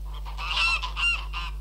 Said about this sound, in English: Fine flocks of geese and a pet of a gander feeding out of a pot are rare sights